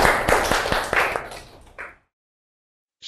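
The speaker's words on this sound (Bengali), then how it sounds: "আরেকবার হাততালি হবে সবার জন্য।" A first-grade class claps together at the end of a primary maths lesson on geometric shapes. A short, sharp burst of nearby hand claps fades out within two seconds, followed by near silence.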